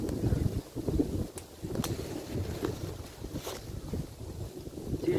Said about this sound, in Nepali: एकदम चिसो हावा चलेको चाहिँ